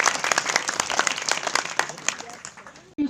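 At a school ceremony, a crowd of students claps steadily in dense applause for a few seconds before it cuts off abruptly into a voice.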